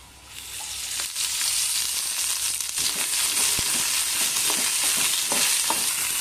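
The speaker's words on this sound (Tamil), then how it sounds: "கொஞ்சம் ஆயில் சேர்த்து நம்ம வதக்கிக்கலாம்." Shallots, chana dal and cumin fry in hot oil, a loud, constant sizzle that swells in at the start, with scattered scraping stirs and faint crackles up close.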